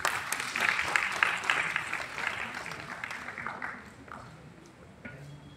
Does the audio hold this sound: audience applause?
yes